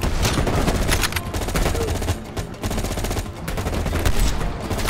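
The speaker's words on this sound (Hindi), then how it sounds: "गोली गोली गोली गोलियाँ चल रही हैं" Gunfire in the video game Call of Duty Black Ops Cold War: loud, dense automatic bursts and rapid shots pile over one another almost without pause, harsh and close, with no talking.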